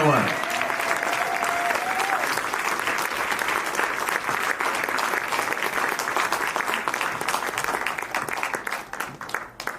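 Audience applauding at a spoken word poetry event: sustained, dense clapping from a large crowd, loud and steady throughout before gradually thinning near the end.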